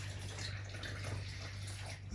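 Roughly 325 ml of water poured from a steady stream into the middle of yeast and wholegrain flour for bread dough, a soft continuous splashing trickle under a low background hum.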